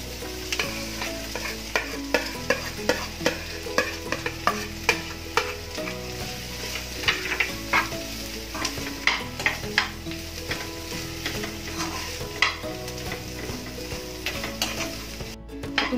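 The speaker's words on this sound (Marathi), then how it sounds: "2 मिनिटं परतून घेऊया आणि मग आपण त्याच्यामध्ये बटाटे घालू" Stuffing vegetables with potatoes, amchur and a little sugar sautéed in a pan for stuffed capsicum, with a lively sizzle under a busy run of spatula scrapes and taps, steady and close, without voices.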